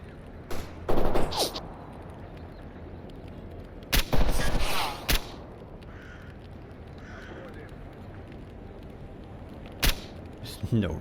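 Gunfire in S.T.A.L.K.E.R. Anomaly comes as sharp, loud bursts: a short volley, then a longer one a few seconds later, and a single shot near the end. A voice speaks quietly in between.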